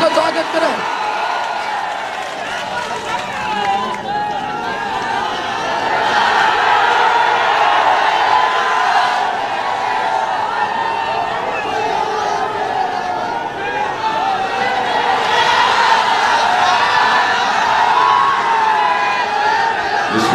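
A large outdoor crowd at an election rally in Tappu Haat, Dighalbank, clapping and cheering to welcome a candidate, a loud sustained roar of voices and shouts with applause mixed in, swelling and easing in waves.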